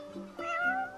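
A cat in the video game Final Fantasy XV gives two short, close meows in quick succession, clear and alone.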